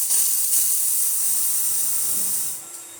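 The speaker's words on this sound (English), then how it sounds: "And then I'll show you the steam." The steam wand of an Olympia Coffex espresso machine hisses loudly and steadily for about two and a half seconds, then drops to a quieter, thinner hiss.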